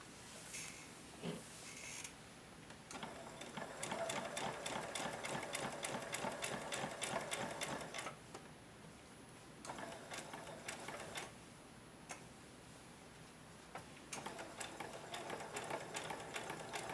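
A home sewing machine stitches a homemade protective mask in a long, steady run, a fast rhythmic mechanical chatter that pauses and slows briefly before starting again, close and alone.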